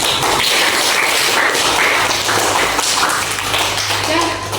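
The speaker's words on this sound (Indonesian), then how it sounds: "Tepuk tangan buat kita." A classroom of students claps together in applause, a dense, continuous wash of hand claps filling the room at close range.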